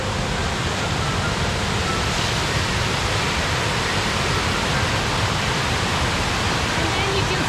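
A Pocono waterfall pours steadily into a creek, a dense, even roar of rushing water that stays constant and close throughout with no break.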